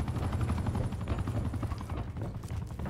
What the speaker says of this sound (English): the helicopter just fucking takes off before you can shoot it down